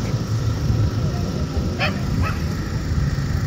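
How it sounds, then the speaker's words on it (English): A search and rescue dog barks during a training demonstration, two quick barks heard over a loud steady outdoor rumble, moderately distant with no talking. "There he goes, barking at Mark."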